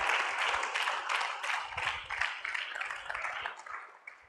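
Congregation applauding in a church service, a dense sustained wash of many hands clapping together at a steady level for several seconds with no talk over it.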